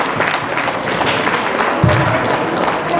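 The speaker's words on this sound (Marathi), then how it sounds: "प्लीज टाळ्या वाजवूयात त्यांच्यासाठी." Audience applause for a president called up on stage as a sponsor, a steady dense wash of many hands clapping at close range throughout, loud and sustained with no voices over it.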